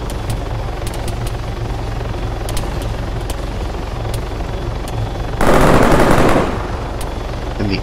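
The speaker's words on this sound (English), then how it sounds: "And the angry pitter-patter of little guns." Machine-gun fire in the ArmA 3 combat game, a dense, loud burst of about a second rising over a constant helicopter rotor drone, with scattered faint sharp pops of distant gunfire before it.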